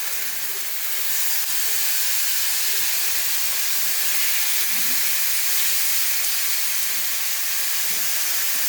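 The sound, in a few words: paprika-marinated pork chops sizzling in a pan over low heat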